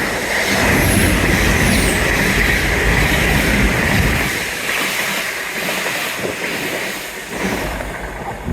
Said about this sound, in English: Right in the distance there, we have a choo-choo train.